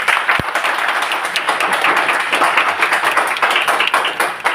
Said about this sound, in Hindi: एक बार जोरदार तालियां सभी के लिए।